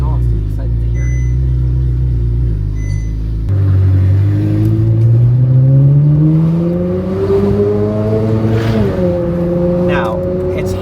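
Ferrari engine fitted with a new Valvetronic exhaust, idling low and then revving up in rising, sweeping surges, loud and close, with the pitch climbing and falling across several blips.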